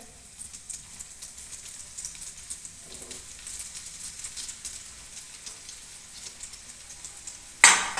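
Onion bhajiya fritters sizzle steadily in hot oil, a soft, even frying hiss with faint crackles, ending in a sudden louder burst of spitting near the close.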